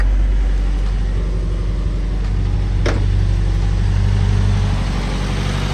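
A Honda B20 engine in a hatchback idles after a coil pack conversion, a loud, steady, even drone with one brief sharp click partway through.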